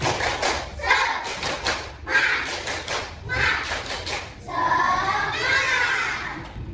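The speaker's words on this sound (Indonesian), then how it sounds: "Semua dulu tepuk semangat" Schoolchildren in a primary school classroom do a rhythmic spirit clap, with bursts of claps and thumps in repeated patterns alongside their chanting voices.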